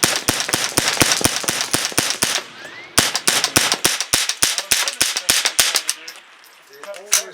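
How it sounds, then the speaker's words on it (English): Gunshots from a semi-automatic .22 rifle, a 10-22 with a 16-inch bull barrel, firing .22 ammo: rapid, evenly spaced sharp cracks in two long strings with a brief pause between, loud and close, followed by a quieter rattle. "The semi-automatic rifle I've got is a 10-22"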